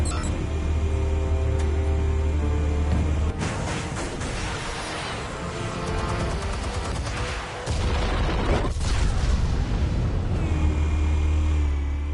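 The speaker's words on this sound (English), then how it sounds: "Explosives armed. Fire when ready." Explosives detonating in a Batman video game, a dense stretch of booming blasts and crackling debris with heavy low rumble, loud and close, followed by further rumbling.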